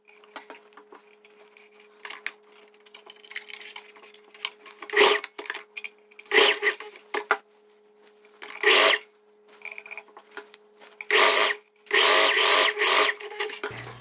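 A domestic sewing machine stitching along the armhole of a loose viscose dress, with several short whirring bursts broken by pauses and a steady faint hum underneath, close by.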